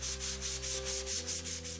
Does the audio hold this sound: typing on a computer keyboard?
no